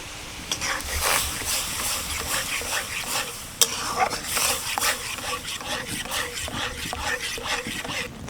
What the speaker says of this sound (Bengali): আস্তে আস্তে জাল করতে থাকবো আর কোনো কোনো নাড়তে থাকবো যাতে আমটা নিচ থেকে লেগে না যায়